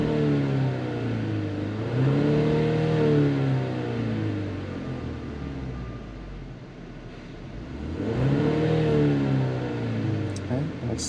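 A 2023 Genesis GV70 engine idles steadily, then is revved twice in smooth rising and falling sweeps, close and fairly loud with no talking.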